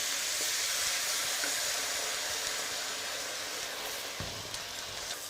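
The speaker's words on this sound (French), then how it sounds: "Je déglace au vin blanc." Crustaceans deglazed with white wine sizzle and hiss steadily in a hot pan, a dense continuous frying sound with a few small clinks near the end and no voices.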